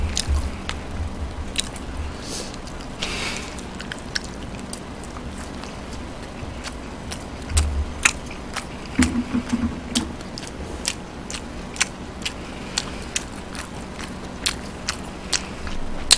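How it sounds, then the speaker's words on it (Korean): Someone chews neobiani, Korean marinated grilled beef, during a Chuseok holiday meal: soft, wet biting and mastication sounds with small clicks and squishes, close to the mic and fairly steady, with no talking. "너비안이 좀 먹어볼게요"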